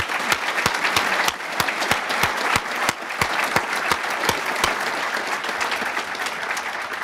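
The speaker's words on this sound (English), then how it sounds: "Let's give him another round of applause." Audience applauding after a lecture in Grand Rapids, a dense, steady wash of clapping from a large crowd that continues evenly for several seconds with no talk over it.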